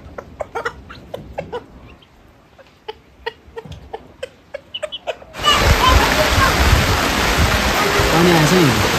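Water rushes loudly in a Nepali mountain village, a dense continuous flow that starts suddenly partway through after a quieter stretch of birdsong and rooster calls.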